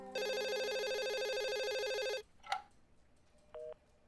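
A telephone rings with a fast electronic trill for about two seconds, followed by a short click and a brief beep.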